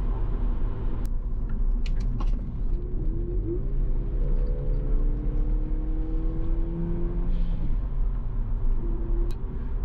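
A Toyota Caldina GT4 estate car with a 256 bhp 3S-GTE turbo engine drives with a steady low engine rumble and road noise from inside the cabin, rising slightly in pitch as it accelerates, with no talking.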